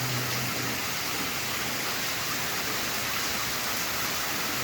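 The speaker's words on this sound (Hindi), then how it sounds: "और इस कदर बारिश हो रही है इस जगह, इस जंगल में" Heavy monsoon rain pours down in a forest at night, a dense, steady roar of falling water that holds constant and loud throughout, with nothing else standing out.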